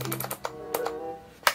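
Keys clack in quick bursts on a semi-mechanical gaming keyboard from Bright, a series of crisp close taps with short pauses between them and a louder final stroke.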